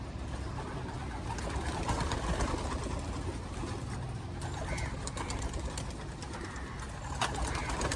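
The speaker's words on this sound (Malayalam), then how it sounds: "ബേഡുകൾ ഓരോന്നായിട്ട് അതിൽ കൂടി പുറത്തോട്ടിറങ്ങി അവർക്ക് ഇഷ്ടമുള്ളതുപോലെ പറക്കും." Racing pigeons file out of their loft through an opened trap door. A steady rustle of birds and soft cooing runs throughout, with scattered wing flaps and brief sharp knocks near the end and no talking.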